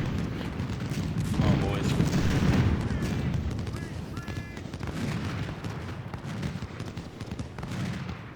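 Musket volleys crackle in a Civil War battle at Chickamauga in Ultimate General: Civil War, with repeated rolling bursts of gunfire under someone talking.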